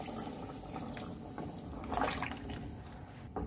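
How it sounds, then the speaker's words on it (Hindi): Soaking water from chickpeas poured into a pot of roasted black chickpeas for a curry, a steady low liquid splash and trickle with a brief louder gush midway, close and alone. "जिस पानी में मैंने चने भिगो के रखे हुए थे वही पानी मैं इसमें ऐड कर रही हूँ"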